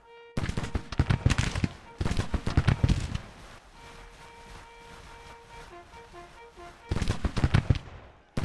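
Full volleys of musket fire in a Civil War battle, likely in a video game: three loud bursts of crackling massed gunfire, each about a second or more, separated by lulls filled with wind and a faint musical tone.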